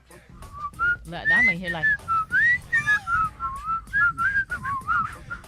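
A man whistles a wavering, tuneful line on a morning radio show, bright and close, with short bursts of laughter and talk breaking in early.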